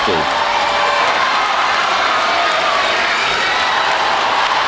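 Crowd noise swells through a high school boys' basketball gym at the opening tip between CHS and Union County, a dense, steady roar of cheering under constant announcer talk.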